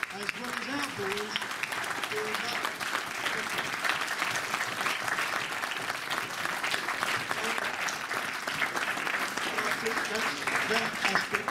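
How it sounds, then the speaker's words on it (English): Speedway crowd applauding steadily at a National League play-off semi-final, a dense clapping wash that runs throughout, with someone talking over it. "I think we should give a round of applause to the Bellevue boys as well as our boys"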